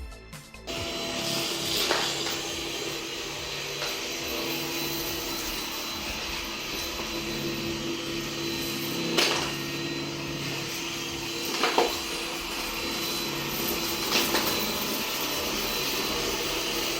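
A Yeedi Vac Max robot vacuum runs with a steady, loud suction whir. A few sharp clicks and rattles stand out as it passes over scattered coins on the floor.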